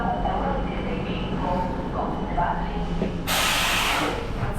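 At Břeclav station, a Polish EuroCity train sits at the platform with a low rumbling hum and a sudden loud hiss of air near the end, with a voice speaking faintly over it.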